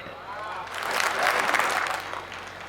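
Audience applause at a Hindi kavi sammelan poetry recital, a broad wash of clapping that swells through the middle and stays steady and fairly close without voices standing out.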